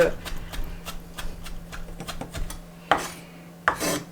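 A knife mincing pork and shrimp for won-ton filling taps out quick, regular chops on a board, with a couple of heavier scraping strokes near the end, under a person talking.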